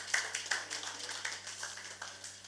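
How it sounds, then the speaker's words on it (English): Audience applause for a moderator at a conference on security, a brief round of scattered hand claps from a modest crowd in a room, moderately loud over a low hum. "Can I first of all ask us to have a round of applause for our very professional"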